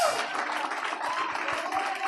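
A church congregation claps steadily together, a dense wash of applause that holds at an even level for a couple of seconds.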